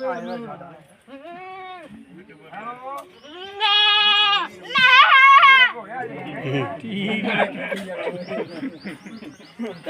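Goats bleat loudly and repeatedly close by at a village goat market in Bhalur, Punjab, with wavering cries overlapping people talking in a busy outdoor setting.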